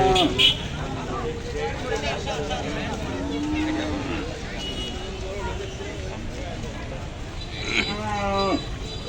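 Cattle low a few times amid a busy, murmuring crowd at the Sarulia cattle market, with a drawn-out moo rising near the end over steady background chatter.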